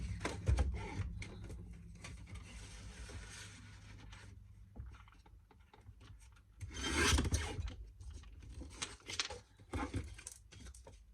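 Scissors or a blade cut through a folded paper card for a decorative table menu, giving soft rasping snips that come in bursts, separated by quiet handling pauses.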